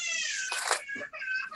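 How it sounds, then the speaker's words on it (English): A baby's morning waking cry that sounds strikingly like a cat's meow, a loud, close wavering wail with bright harmonics, breaking into a few short bursts. "That was the morning waking call of a baby saying"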